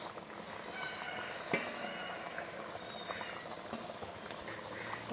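Potato gravy bubbles under a lid in a covered pot, a dense, steady simmer of soft pops and gurgles close by, with no talking.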